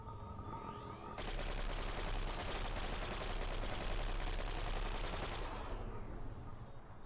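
Sustained automatic gunfire from the Cortex Command video game, a dense continuous burst lasting several seconds, loud and close, with a brief lead-in of quieter game sounds before and a tapering tail after.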